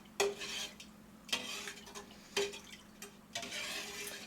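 Milk heating in a pot for cream cheese being stirred, quiet scraping swishes with four distinct spoon strokes roughly a second apart against the pot, close and faint with no talking.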